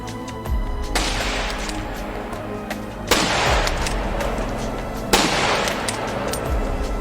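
Scout sniper rifle in Counter-Strike 1.6 fires three loud, sharp shots spaced about two seconds apart, each with a brief ringing tail over a low game background.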